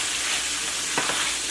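Southern fried corn seasoned with black pepper and adobo sizzles in a pan over high heat, a constant close hiss with a couple of brief scraping stirs near the end.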